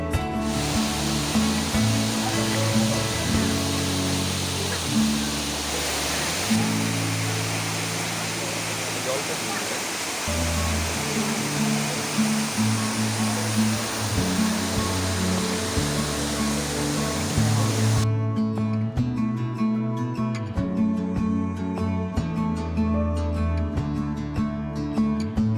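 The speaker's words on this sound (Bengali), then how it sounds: "তো তারপর আমরা কাংসুরি ফলসে কিছুক্ষণ সময় স্পেন্ড করেছিলাম।" Kangsuri Falls in Meghalaya roaring steadily up close, a dense, continuous rush of falling water with no pauses, loud throughout and masking other sounds.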